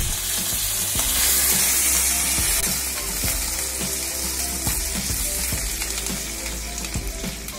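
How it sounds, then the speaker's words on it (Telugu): Two dried red chillies and curry leaves fry in hot oil while being stirred, a loud, close, continuous sizzle with scraping and clinking of the spoon against the pan. "దీంట్లోపల 2 ఎండుమిరపకాయలు వేసుకొని మొత్తం కలుపుకుందామండి. ఇప్పుడు అలాగే కొద్దిగా కరివేపాకు రెబ్బలు వేస్తూ కలుపుకోవాలి."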